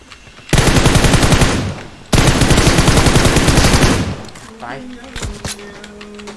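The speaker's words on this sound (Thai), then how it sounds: "เฮ้ยใครใครยิงมาวะ" Automatic gunfire aimed at players in an online shooter, two loud, close sustained bursts of rapid shots separated by a short break, followed by quieter sounds and a voice.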